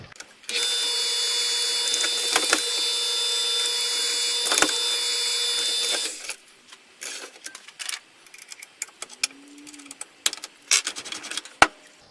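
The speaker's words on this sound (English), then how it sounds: "I like to use a Forstner bit, get a nice round centered hole with those." Drilling a round hole in wood with a Forstner bit, the power drill whirring steadily and loudly for about six seconds, then stopping, followed by scattered small clicks and knocks of tool handling.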